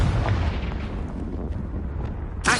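A Confringo explosive spell blast in the Hogwarts video game, a loud booming burst that rumbles and fades over a couple of seconds, followed by a sharp bright hit at the very end.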